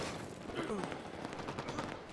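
Rapid gunfire and explosive bursts in a Halo Warzone match, a dense, muffled clatter of shots lasting about two seconds, with faint voice chat mixed in.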